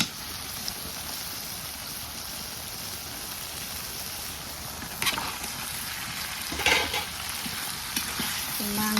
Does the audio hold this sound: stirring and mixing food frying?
yes